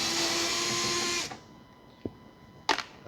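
A power drill whirs steadily to take out headlight-cover screws on a 1986 Porsche 944 Turbo, then cuts off, followed by a couple of small clicks and handling noises.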